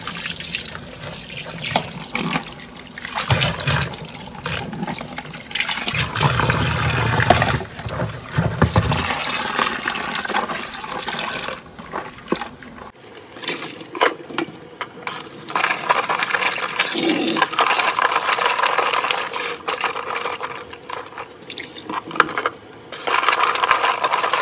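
Water runs from a tap as Dendrobium orchid stems are rinsed clean, a continuous splashing flow with clinks and handling noises, interrupted by a brief pause before the water resumes.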